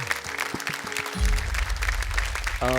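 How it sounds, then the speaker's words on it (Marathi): Audience applause on a Marathi television show, a burst of clapping under loud music and hits, heard over the band for a few seconds. "एकदा जोरदार टाळ्या झाल्या पाहिजे"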